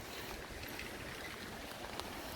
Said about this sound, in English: And it's pouring down now, just when I wanted to do something.